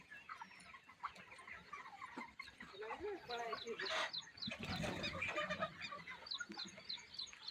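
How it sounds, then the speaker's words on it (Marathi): Poultry chickens cluck and squawk on a farm near sugarcane fields, a busy flock heard fairly close, with a person speaking in the background. "बघा आता या कोंबड्या."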